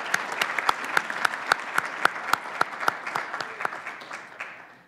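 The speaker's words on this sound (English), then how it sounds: "Please let's have a round of applause for all of our contestants once more." An audience at a research slam competition applauds the contestants with loud, close clapping. A few distinct sharp claps stand out over the crowd's steady patter, and the sound thins toward the end.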